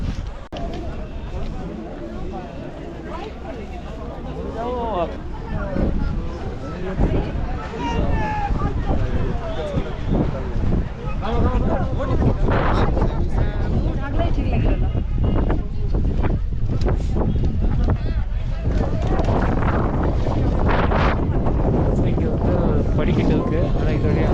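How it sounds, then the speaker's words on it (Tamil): Strong mountain wind in Sikkim roars steadily and buffets the microphone for the whole stretch, with heavier gusts later on and voices faintly present at times. "காற்றோட சவுண்ட் உங்களுக்கு கேட்குதான்னு தெரியல"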